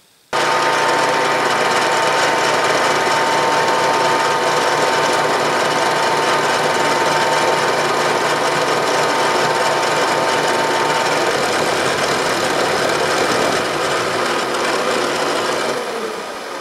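A Bridgeport milling machine conventional-milling a chamfer in 3/4-inch-thick aluminum gives a loud, continuous harsh cutting roar with a steady whine, running unbroken for about fifteen seconds before easing off at the end.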